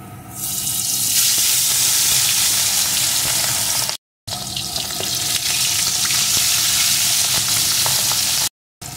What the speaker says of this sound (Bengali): এখন লবণ, হলুদ আর কাঁচা সর্ষের তেল মাখানো পাবদা মাছগুলো এর ভিতরে দিয়ে প্রথমে ভেজে নেব